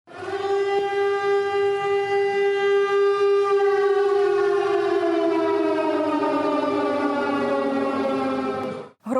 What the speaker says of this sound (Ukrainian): сповістять населення за допомогою сирен та переривчастих гудків підприємств